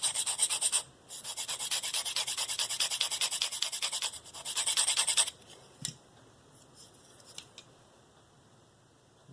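A Spyderco Paramilitary 2 blade in S30V steel is stroked repeatedly across a DMT Diafold fine ceramic stone, rapid rhythmic rasping in two bursts, then quieter scattered scrapes and taps.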